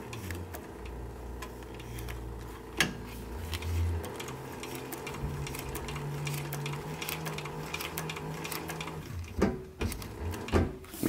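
Sewing machine running steady stitches along the seam of a short brim cap, a continuous low mechanical hum with small ticking clicks, close and fairly loud, with a few knocks near the end.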